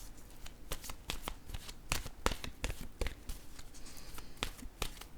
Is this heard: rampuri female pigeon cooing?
no